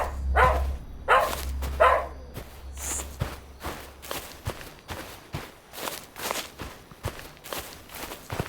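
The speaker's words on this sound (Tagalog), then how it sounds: "May aso." A few dog barks sound early on at moderate distance, followed by a steady patter of footsteps walking along.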